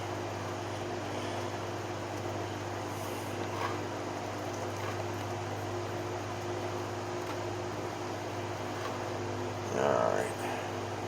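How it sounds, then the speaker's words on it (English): Electric fan running steadily in a home workshop, a constant low hum and airy hiss in the background with faint handling noises and a brief rustle near the end. "Excuse the noise in the background. I've got my fan going."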